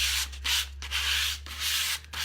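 Hand sanding along the chipped edge of a piece of furniture finished in milk paint, a close, dry, raspy rubbing in several back-and-forth strokes with brief pauses between them.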